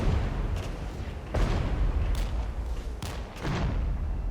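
Artillery fire landing on a supply unit in the Regiments war game: several heavy booms erupt at intervals over a dense, rumbling battlefield background, loud and fairly close, with no talk.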